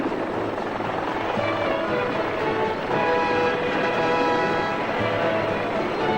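A helicopter's steady rotor and engine drone fills the air continuously, loud and close, with no voices.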